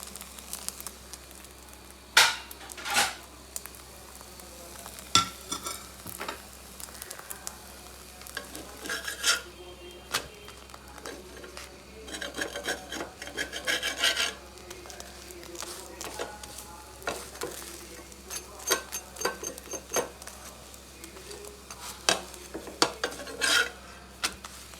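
Paratha fried in a pan, with a spatula scraping and clattering against the metal as it is worked and cut, giving irregular close knocks and scrapes over a low, steady background hum; no one talks.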